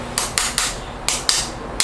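A hammer taps metal in quick succession, about seven sharp, close, evenly spaced strikes, with no voices.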